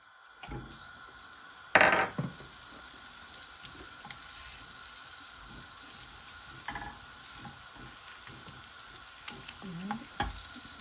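Butter sizzling on a hot cast iron pan while cooking sisig, a steady frying hiss with a few sharp sputters and clatters, close and moderately loud with no talking.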